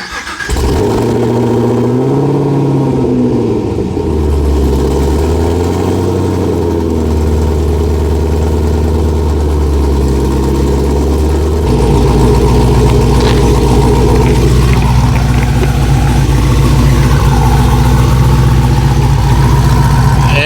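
A Camaro's loud V8-style engine idles steadily with a choppy, rumbling burble, briefly revving early on before settling into a deeper, throbbing idle.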